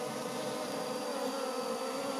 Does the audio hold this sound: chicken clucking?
no